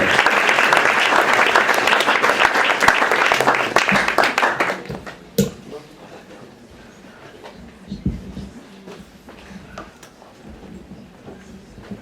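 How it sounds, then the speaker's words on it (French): An audience at a stage show in Matreselva applauds a performer named Till: dense, loud clapping for about five seconds that then dies away to quiet room noise with a few scattered sounds. "On peut l'applaudir comme il se doit, s'il vous plaît."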